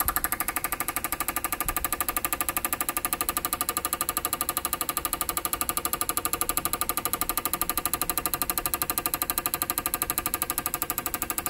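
An Autool 150 fuel injector cleaning machine runs an idling test with a fast, steady mechanical ticking, evenly pulsed and unchanging over a constant hum, with no one speaking.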